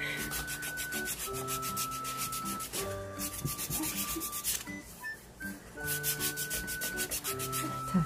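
A wooden foot file rasps against calluses on a foot during a pedicure, a close, steady back-and-forth scraping with rhythmic strokes, over faint background music.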